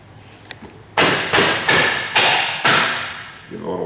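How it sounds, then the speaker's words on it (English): A Lightech chain adjuster is tapped onto a motorcycle axle with the heel of a hand, giving five sharp, close, evenly spaced knocks that each ring briefly, with quiet handling noise before them. "Give a little tap there, just use the heel of my hand."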